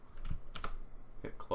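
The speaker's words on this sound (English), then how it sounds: "you just type workgroup" A few quick, soft clicks of fingers tapping keys on a computer keyboard, coming in short bursts, close and fairly quiet.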